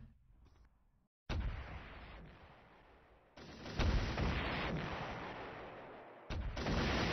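Artillery fire in a real-time strategy war game, heard as loud, broad rumbling booms that start suddenly and fade away, repeated about three times in quick succession, with no voices.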